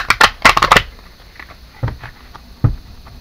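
Oracle cards are shuffled by hand in a quick burst of crisp riffling flutters near the start, followed by a few softer isolated taps and shuffles.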